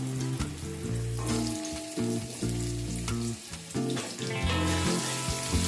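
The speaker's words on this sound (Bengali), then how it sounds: "আলুটাকে একটু লাইট ব্রাউন করে ভেজে নেব" Small potato pieces fry in oil with whole spices on the way to a bottle gourd and prawn dish, giving a loud, steady sizzle up close, broken by spoon stirring and low music underneath.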